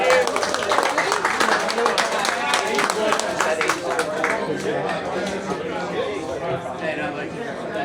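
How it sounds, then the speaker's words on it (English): Applause from a gathered crowd in Bangkok, dense clapping with chatter mixed in, steady and fairly loud throughout. "can we have a massive round of applause for BangkokPat for organising it"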